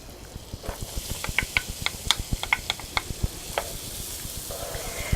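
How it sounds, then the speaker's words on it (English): Onions hit a pan of olive oil with simmering beef inside a campervan kitchen, giving a close, crackling sizzle of sharp pops and spits over a steady hiss, with no talking. "while this is simmering away, we're going to add our onions"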